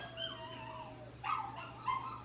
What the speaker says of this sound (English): I don't know if you can hear my dogs howling outside